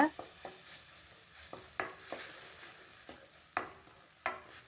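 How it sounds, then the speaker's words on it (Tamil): Ground onion paste sautéing in oil for a green field-bean tamarind curry, with a soft steady sizzle broken by periodic spoon scrapes and stirs against the pan, close and fairly quiet. "வெங்காயத்தோட பச்சை வாசனை போகிற அளவுக்கு நல்லா வதக்கி கொடுத்துக்கலாங்க"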